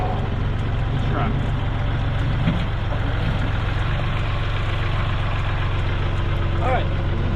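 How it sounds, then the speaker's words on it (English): Tractor engine running, a loud, steady low diesel drone throughout with no distinct start, as a tractor is readied to move a gigantic tortoise; people talk faintly over the constant engine noise. "Okay, I'll start the tractor."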